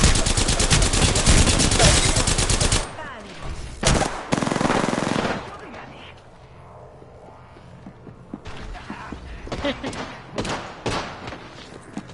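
Gunfire from enemies in the battle royale game Apex Legends: a dense burst of rapid automatic fire up front, then scattered loud single shots and short bursts with quieter gaps in between.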